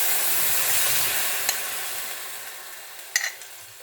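Bone broth jelly hits a hot pan and sizzles, a bright steady hiss that slowly fades as it melts, with a couple of sharp clinks near the end and no talking.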